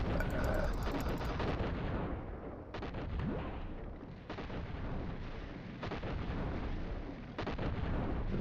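Explosions and sustained gunfire in a shooter video game about killer cleaning robots, loud, dense and continuous, with heavy booming blasts and rapid crackling shots running throughout.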